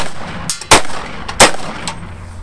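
Firearm shots fired outdoors near a landfill and reservoir, two loud sharp cracks about a second apart with a fainter pop before and after, over steady wind and background hiss.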